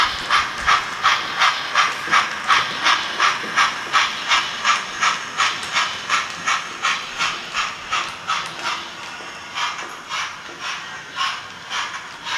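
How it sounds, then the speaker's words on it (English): A model railway steam locomotive chuffs and hisses in a fast, regular rhythm of steam bursts that stays steady and close throughout, with no speech. "a steam theme for this update, all steam locomotives"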